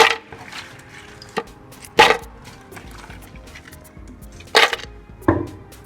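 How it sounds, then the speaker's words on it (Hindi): Ice cubes dropped into a jug while making cold coffee, heard as a few sharp, separate clinks and knocks spread over several seconds, fairly close, with quiet stretches between them. "तो ये जग में पहले बर्फ़ डालूंगी।"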